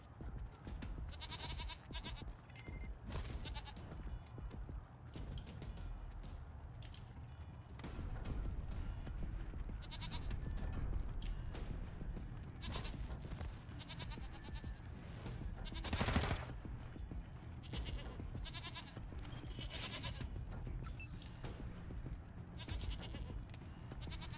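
A goat bleats in the video game Wasteland 3, a single sharp call standing out midway through a faint, busy game soundscape of scattered clicks and rumbles.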